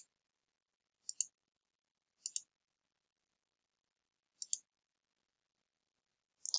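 A computer mouse clicks in short paired bursts, sharp and quiet, about four separate double clicks spaced irregularly across near silence.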